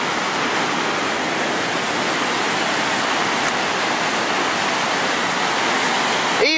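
Floodwater pours down into the sea in a heavy, continuous roar like a waterfall, loud and close with no talk.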